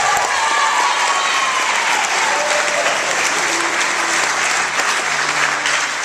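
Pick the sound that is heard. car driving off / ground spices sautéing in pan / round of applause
round of applause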